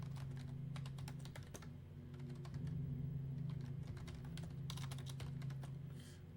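Typing on a computer keyboard, bursts of rapid key clicks with short pauses, faint and close over a low steady hum.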